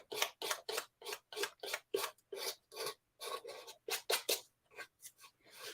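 A handheld nail file scrapes back and forth in steady, rapid strokes, close and fairly quiet, each rasping pass clearly separated with no talking.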